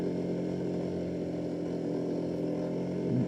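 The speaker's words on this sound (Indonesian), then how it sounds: "kerja keras banget nih motor" Steady engine drone of a CVT motorcycle climbing an extremely steep, damaged road, continuous and fairly loud with a constant low hum, laboring under load.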